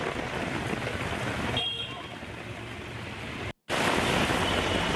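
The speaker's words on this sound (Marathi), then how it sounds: "मुंबई शहर आणि उपनगरामध्ये मुसळधार पावसाला सुरुवात झाली आहे" A steady, dense hiss of heavy monsoon rain in Mumbai pours down continuously, with a brief dropout before the downpour resumes just as loud.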